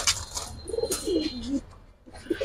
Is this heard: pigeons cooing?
yes